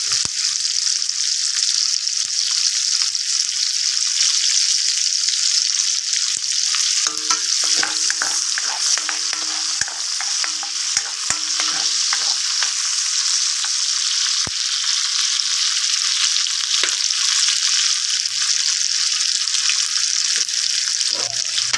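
Chopped onions and crushed garlic frying in a pan for chopsuey, a loud, continuous hissing sizzle with occasional light stirring clinks, steady throughout.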